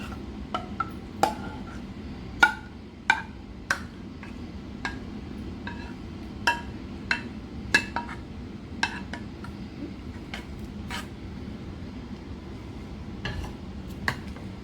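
Custard being stirred into sago in a bowl, a string of light, irregular spoon taps and clinks against the bowl over a faint low hum, close and quiet, with no voices.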